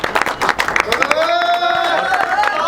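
A crowd claps for a third-prize winner at a high-flying pigeon club award function in Jharkhand; a short burst of dense clapping fades as a voice starts talking over it.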